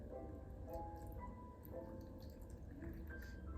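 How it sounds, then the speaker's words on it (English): Water trickles and drips in soft, bubbly plinks while watering freshly planted Tradescantia zebrina, against a low, steady background, quiet and close. "Just kind of water in everything I just planted."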